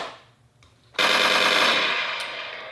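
A quiet mechanical click and rustle as a toy blaster's slider is pulled back, then a sudden loud, bright electronic blaster burst that holds steady and slowly fades.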